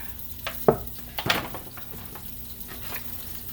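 Stewed chicken shifted around in a frying pan, with a few close scraping knocks over a soft background sizzle.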